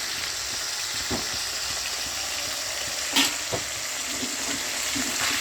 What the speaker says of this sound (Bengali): মাছটাকে খুব কড়া করে ভাজবো না, হালকা পাতলা ভেজে তারপরে মাছটাকে তুলে নেব